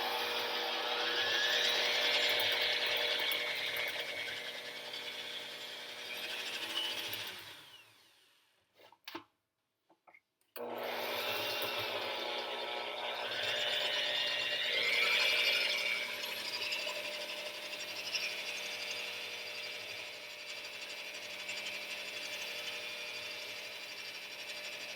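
A stand mixer with a dough hook churns English muffin dough, a steady loud whirring drone with rubbing texture that cuts out briefly midway, then resumes and runs on alone.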